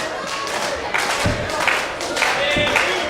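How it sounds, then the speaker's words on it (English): Wrestling crowd cheering and clapping for Chase Oliver during a match against Alec Price, with thuds from the ring and a commentator's voice over the noise. "Crowd getting behind Chase."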